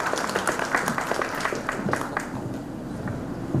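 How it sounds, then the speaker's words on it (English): A summit audience applauds a speaker, a dense, continuous wash of many hands clapping in a hall, steady and fairly loud throughout. "A round of applause to Mr. Shakti Vishakan Rajaguru."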